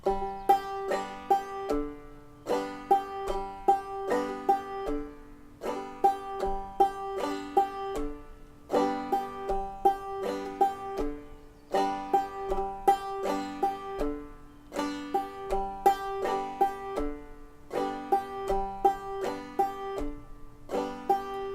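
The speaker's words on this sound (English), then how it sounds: "This one, you're going to do your double thumb at your third string. And the fourth string will just be a regular stroke." Plucked strings play a double-thumb exercise, the thumb striking the third string twice and the fourth string taking a regular stroke, repeated in steady bright phrases with short pauses between, played alone.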